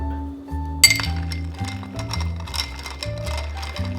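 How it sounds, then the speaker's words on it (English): A long bar spoon spun around a mixing glass full of ice for a martini, giving a steady run of light glassy clinks and rattles, close and clear, with no talking. "you're using the ice to stir the whole mixture itself"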